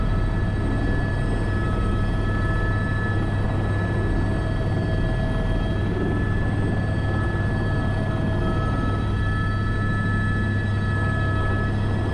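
A helicopter hovers steadily during a sling load operation in Åmli, producing a constant loud engine and rotor drone with tonal whine that persists throughout without talk.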